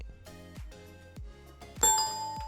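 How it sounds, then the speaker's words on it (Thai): Several bright chime tones ring out in a short sequence, a phone message notification sound effect, clean and close with no talk, ending on a louder, brighter shimmering chime. "ให้ดูเหมือนแบบ เออ มีเสียงข้อความเข้าอะไรอย่างนี้"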